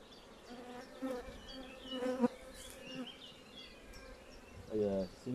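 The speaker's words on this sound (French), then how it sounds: "C'est une ruche qui a rentré énormément de pollen." Honeybees buzzing around a beehive as they bring in pollen, a faint, steady hum close by with individual bees droning past now and then.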